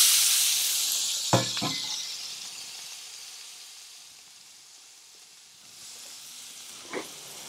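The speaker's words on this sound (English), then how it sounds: "Next, I'm gonna add my shrimp." Shrimp hitting hot coconut oil in a wok give a bright hiss that fades slowly, with a few sharp crackles and pops early on and another pop near the end.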